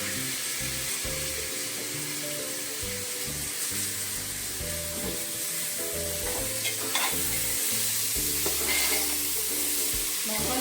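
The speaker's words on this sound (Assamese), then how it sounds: "এতিয়া মই ভাজি চাউলকেইটা বহাই দিম" Rice fries in a pan at home, giving a continuous close sizzle with repeated scraping and stirring strokes throughout and no talking.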